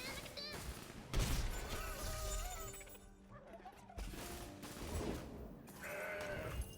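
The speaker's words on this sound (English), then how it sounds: "that's a goat." A goat bleats on a zoo deck among other animal calls and clattering noises, with a few wavering cries rising over a busy, close mix of background sounds.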